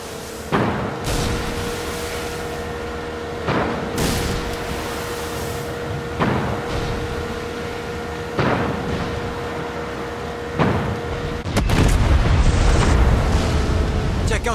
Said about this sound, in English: Check out the fireworks!